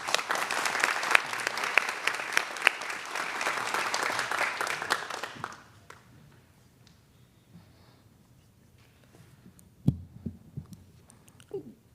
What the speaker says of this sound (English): Please give us a round of applause for Millie.